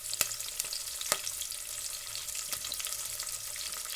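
Food sizzling steadily in hot oil in a pan in a home kitchen, with a few sharp clicks and pops over the continuous crackle, close and fairly loud, no talking.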